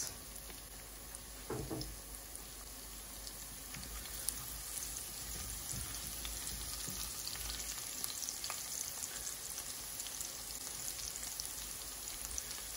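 A soft, steady sizzle of garlic frying in oil runs throughout, fine crackles spread evenly with a few louder pops, nearby and without talking.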